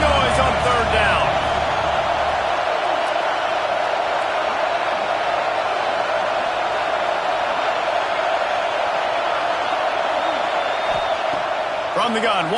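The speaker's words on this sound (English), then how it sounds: "This dog crowd is off the leash, and they are coming after them, bringing noise on third down." A football stadium crowd at a Georgia game roars steadily on third down, a dense, unbroken wall of cheering that holds at full volume throughout.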